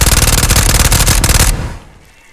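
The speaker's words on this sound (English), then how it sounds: "this is my fully modded out Vector. So, when I shoot it" A fully modded Vector fires a loud, rapid automatic burst in Ghosts of Tabor, a fast steady stream of shots for about a second and a half that cuts off into a fading tail.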